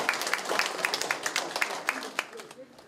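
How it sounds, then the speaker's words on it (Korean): Audience at a Seoul public policy forum claps in welcome, a burst of scattered, uneven hand claps with a murmur of people talking underneath. "박수로 환영해 주세요."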